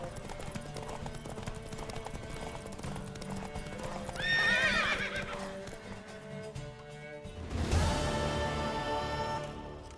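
In The Witcher 3: Wild Hunt, a mare's hooves clip-clop steadily at a gallop while she lets out two loud whinnies, one midway and one near the end.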